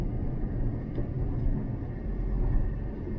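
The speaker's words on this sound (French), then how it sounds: "Autrement, là, ce que vous entendez, là, c'est l'aération." Steady low broadband rumble of a Dacia Duster 4WD ventilation fan blowing, constant and close, with no voices.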